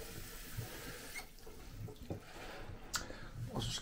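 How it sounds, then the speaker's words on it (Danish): Cold tap water running from a kitchen faucet, a brief steady splashing flow with a few louder spurts, close and continuous across the whole short stretch. "vand til, koldt vand."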